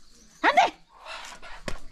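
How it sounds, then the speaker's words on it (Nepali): A family's pet dog gives a sharp bark up close, followed by a second short yip, while a person speaks briefly between the barks. "हाम्रो कुकुर हो"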